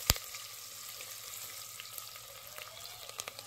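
Garlic frying in a pan with a soft, steady sizzle and a sharp clatter at the start, plus a few faint ticks later.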